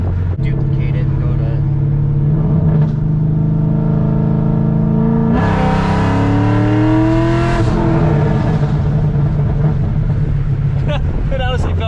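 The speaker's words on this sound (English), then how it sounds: "I guess turn the nitrous off and do a hit and see if it feels different." A C6 Corvette accelerates hard with its nitrous switched off, the engine note climbing steadily and loudly through the run, with a brief pause mid-pull that suggests a gear change, and a voice speaking faintly underneath.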